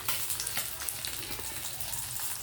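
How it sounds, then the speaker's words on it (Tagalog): Tilapia fillets fry in oil in a pan with a steady, soft, crackling sizzle heard close up and alone. "Magpiprito tayo ng tilapia mga friend."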